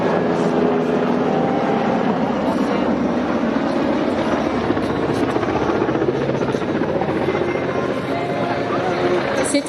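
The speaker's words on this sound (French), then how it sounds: "Cet hélicoptère s'appelle le NH90 Cayman, NH pour NATO Helicopter" An NH90 Caiman NATO helicopter at a naval air base air show gives off a loud, steady rotor and turbine roar that stays constant throughout, with a faint voice in the background.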